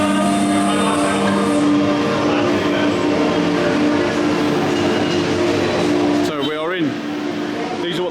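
Peak Tram train in Hong Kong, a loud, continuous mechanical rumble with sustained tonal hum and whine from the carriage, near and steady, with a brief swooping squeal late on and speech mixed in.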